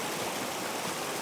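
A North Carolina waterfall at a gold-dredging spot, its water rushing in a steady, dense roar heard up close with no pauses and no voices.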